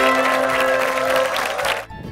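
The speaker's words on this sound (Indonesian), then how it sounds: "Minamania berikan tepuk tangan dulu dong" A studio audience breaks into brief applause for a national award-winning fisherman, a dense patter over a steady sustained tone, cutting off abruptly near the end.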